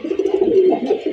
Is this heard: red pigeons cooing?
yes